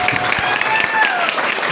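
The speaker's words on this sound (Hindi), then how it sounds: "आप अपने लिए एक बार जोरदार तालियां बजाएं" A seminar audience claps loudly for a trainer, a dense wash of hand claps sustained for under two seconds, steady and close, with no pauses or talk.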